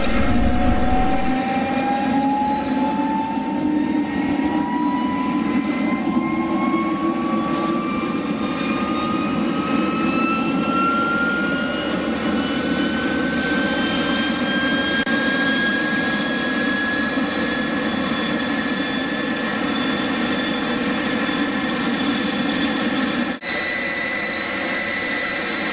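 A Fouga 170 jet engine runs steadily after startup, a loud, continuous roar with a slowly rising whine as it spools up, heard close and without talk.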